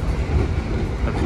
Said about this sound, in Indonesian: kayak lokomotifnya narik gitu, ngegas lagi nih